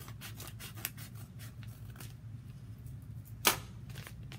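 Scissors cut open the top of a mail package holding yarn, soft rustling and snipping under a steady low hum, with one sharper crisp snip near the end.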